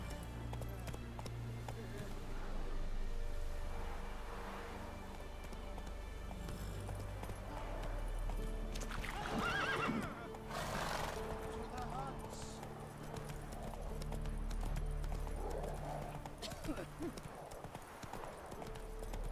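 Steady clip-clop of a galloping horse in The Witcher 3, with a brief whinny in the middle. It runs throughout the clip, and a voice talks over the hoofbeats.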